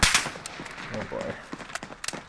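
Hip-fired ASH-12.7 rifle in Call of Duty Modern Warfare, a loud opening shot followed by scattered sharper bursts and game effects, with a voice talking faintly underneath.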